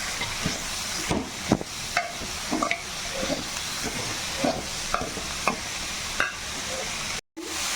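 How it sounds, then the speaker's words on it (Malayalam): Grated beetroot with turmeric being stirred in a hot pan for a Kerala-style stir-fry: a steady sizzle broken by repeated scraping strokes of a spoon, close and continuous, with no voices. "ഇത് വെച്ചിരിക്കുന്ന ബീറ്റ്റൂട്ട് ഇതിലേക്ക് ഇടണേണ്. നന്നായിട്ടൊന്ന് ഇളക്കി കൊടുക്കുക."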